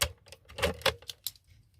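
A package of glue sticks being opened by hand, with a quick run of crisp plastic crinkles and clicks, loudest in the middle and fading out toward the end.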